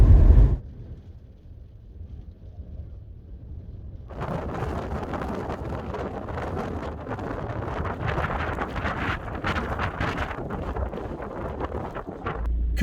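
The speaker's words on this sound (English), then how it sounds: "it's so unexpectedly windy and cold out here" Cold, wet wind outdoors buffets the microphone with low rumbling gusts. A brief thump opens, then a quieter lull, then a sustained, loud, blustery roar with no voices.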